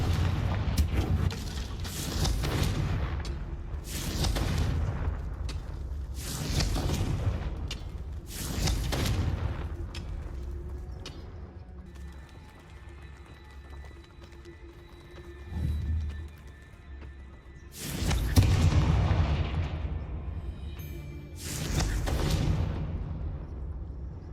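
Repeated booming spell blasts from the Confringo fire spell in Hogwarts Legacy, loud broadband bursts arriving in clusters with a lull in the middle where softer game ambience and faint tones carry on.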